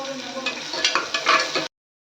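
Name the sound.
onion and garlic frying in a pan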